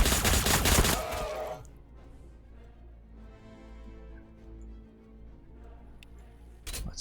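Rapid gunfire from Astra Militarum Cadian troops in the video game Warhammer Battlesector: a loud burst of dense shots opening the moment, then a quieter stretch of rumbling battle ambience and a short fresh burst at the end.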